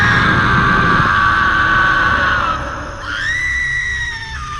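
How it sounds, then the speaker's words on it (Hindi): Ghostly spirits wail and scream in a loud horror-story sound effect, with long sustained shrieking tones that bend and shift pitch over a hissing background. "पीछे दोनों आत्माएं चीखती कुर्राती रह गईं।"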